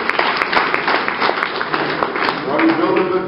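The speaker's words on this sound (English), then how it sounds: "Let's give the Bitcoin Center a round of applause." A conference audience at a blockchain forum in New York gives a round of applause for the Bitcoin Center. Dense, steady clapping fills the room for several seconds, and a voice speaks over it near the end.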